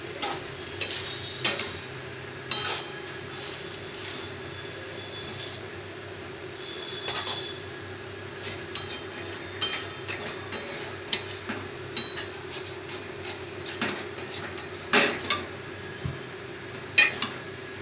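A utensil stirs muri ghonto with ghee in a pan, giving repeated light scrapes and clinks at an uneven pace over a steady low hum and faint sizzle.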